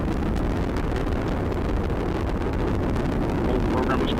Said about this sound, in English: the Atlas rocket carrying OSIRIS-REx has gone supersonic